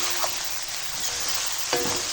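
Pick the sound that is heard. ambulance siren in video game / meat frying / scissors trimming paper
meat frying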